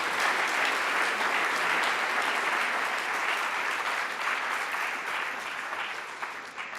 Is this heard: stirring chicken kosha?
no